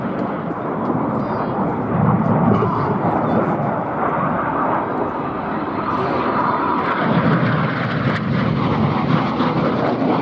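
Red Arrows jets fly the Cyclone manoeuvre at an air show, a continuous broad roar of jet engines holding steady and loud across the whole stretch, with a distant rumbling swell.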